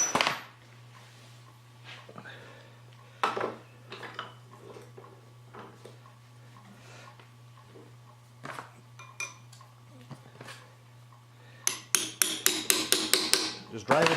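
A metal wedge is struck repeatedly with a hammer, sharp close clanks spaced irregularly, ending in a quick burst of rapid taps, over a steady low hum with no talking.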